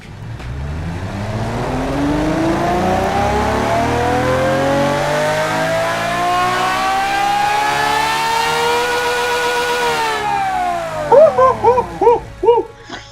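A loud video game car engine revs steadily, pitch sweeping down and back up over several seconds, then cuts into a few sharp, quick throttle blips.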